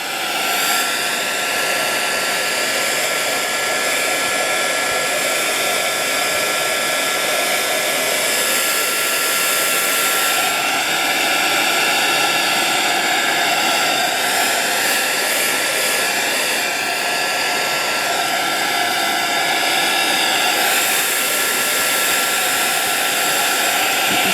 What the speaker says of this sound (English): I've decided I'm going to just finish it off with my heat gun again